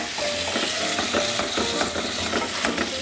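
Vegetables and tripe sauté gently over low heat, a steady close crackling sizzle broken by soft scrapes of stirring at an irregular pace, with no talking.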